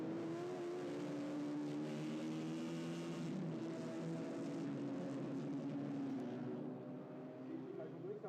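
TCR touring race cars circulate behind the safety car at the Salzburgring in rain, their engines a steady, moderately loud drone with layered harmonic tones that fade slightly near the end, under broadcast commentary.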